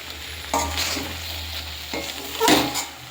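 Banana flower cooked with chickpeas being stirred in a hot pan, a soft continuous sizzle broken by a few scraping stirs of the utensil, close up and without speech.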